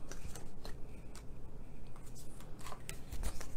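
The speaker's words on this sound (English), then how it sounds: "And then we'll just go ahead and cut out the window." Scissors snipping out a window in a cardboard Thanksgiving and Christmas treat box, with a series of short crisp cuts and paper rustles at an uneven pace, close and fairly quiet.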